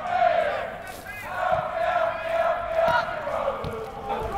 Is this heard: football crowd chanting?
yes